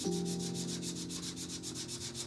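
Steady rhythmic sanding of a wood carving, close and continuous, with repeated even strokes of abrasive rubbing across the wood surface.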